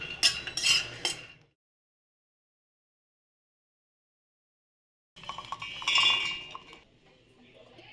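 A spoon scrapes roasted peanuts from a pan into a bowl in two short bursts of metallic clinks and scraping, split by a few seconds of silence.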